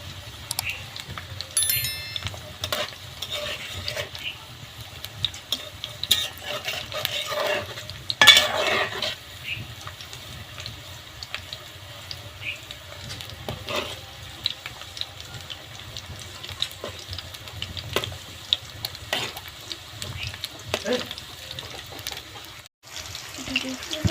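Pieces of restaurant-style 65 recipe fry in oil in a pan, gently stirred with a utensil: a steady close sizzle with frequent scrapes and metal clinks against the pan, and no talking.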